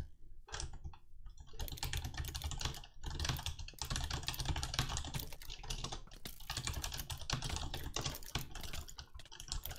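Rapid, continuous clicking of computer keyboard keys during a Minecraft Crystal UHC gaming session, dense and steady with brief pauses, close and fairly loud over a low background hum.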